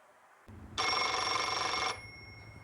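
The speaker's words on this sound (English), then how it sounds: "Too depressed to even answer the phone." A telephone bell rings in one sustained burst of about a second, moderately loud over a low room hum, then stops.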